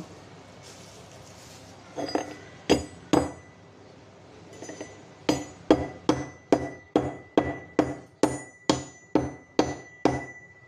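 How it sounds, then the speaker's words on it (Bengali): Whole rock black salt pounded in a metal mortar and pestle rings out as sharp clinking strikes, a few scattered hits and then a steady run of about a dozen evenly spaced blows, close and clear. "আগে বিট নুনটা ছেঁচে নেব।"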